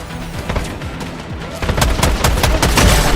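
Rapid bursts of gunfire from the video game Stirnova, dense rattling automatic shots stacking into a loud continuous volley that intensifies in the second half, no talk.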